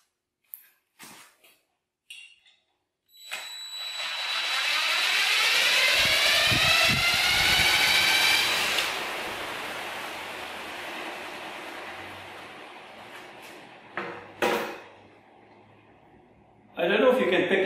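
A multi-blade rotor spins up on a pendulum balancing rig, giving a rising whirring whine with a rushing, helicopter-like hum that peaks, then slowly winds down and fades, with brief knocks before and after.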